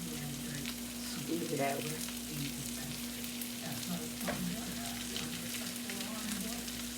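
Ground Aldi pork sausage and garlic sizzle and crackle steadily in a hot pan, a close, continuous frying hiss with a brief spoken remark over it.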